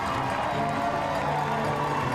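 A large crowd cheers and claps along the marathon finish straight of Eliud Kipchoge's INEOS 1:59 Challenge, a steady dense roar with a commentator talking over it.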